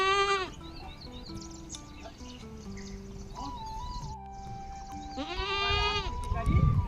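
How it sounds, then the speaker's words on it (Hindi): Goats bleat in a farmyard on a hillside homestead, several harmonic calls near the start and again toward the end, with other bleats and livestock noise mixed through the background. "यहाँ नीचे ससुर जी लोग भी अपनी बकरियों को लेकर आ गए हैं।"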